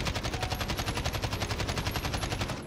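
Rapid automatic fire from the G36C rifle with a different ammo attachment in Call of Duty: Modern Warfare 2019, a fast, even burst of shots for under three seconds, no speech.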